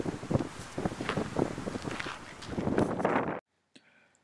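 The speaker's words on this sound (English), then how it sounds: "There's a lot of wind here on the point." Strong wind buffeting the microphone at Mulholland Point on Campobello Island, New Brunswick, loud gusty rumbling that cuts off abruptly near the end.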